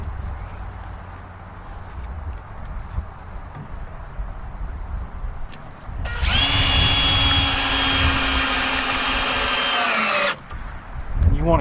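A power drill drives a screw into the leg of a wooden sawhorse, a loud whirring burst of about four seconds following quieter handling noises and room sound, with a short tool noise at the end.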